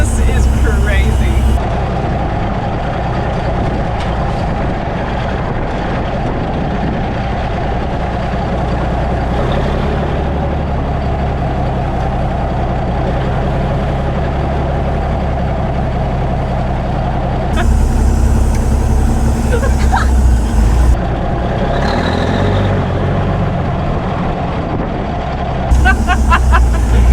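A 1953 Peterbilt truck's engine runs steadily after decades of sitting, a loud low rumble throughout with brief louder surges, while people talk excitedly over it.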